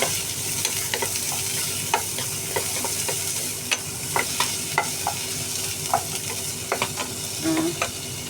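Galunggong fish frying in hot oil makes a loud, steady sizzle up close, broken by frequent sharp spattering pops and crackles throughout, with no talking.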